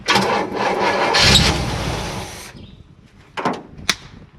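A 1958 Chevrolet Bel Air engine cranking and catching, a loud rough roar for about two seconds that then cuts away, followed by a few faint clanks and knocks.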